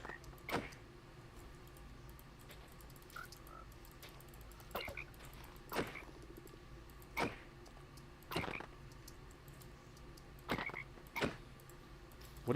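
Frogs croak in the Minecraft video game, repeated short creaky croaks at irregular intervals over a steady low background hum, with no talking.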